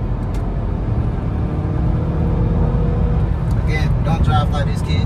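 A Honda car is driven with a steady low engine drone and road rumble, loud and close, while voices talk over it and a few brief higher sounds appear near the end.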